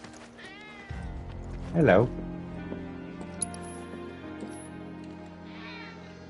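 A cat in Final Fantasy VII Rebirth gives one loud, wavering meow partway through, set against soft in-game background music, while a person briefly speaks a greeting near the start.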